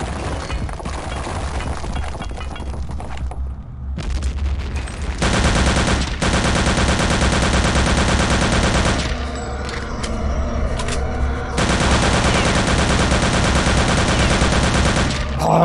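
Sustained automatic gunfire from a machine gun in Return to Castle Wolfenstein, emptying a whole magazine in long dense bursts that fill most of the clip, loud and close, with a brief lull between bursts.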